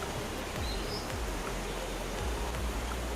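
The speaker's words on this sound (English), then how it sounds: "The waterfall." Waterfall at Westquarter Glen, Falkirk, heard as a steady, dense broadband rush of falling water filling the scene without pause, with faint bird chirps above it.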